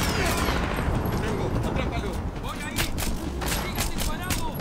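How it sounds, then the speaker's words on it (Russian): Rapid bursts of video game gunfire crackle close and loud, overlapping shots in a continuous fusillade with a voice speaking underneath. "Там такая стрельба идет"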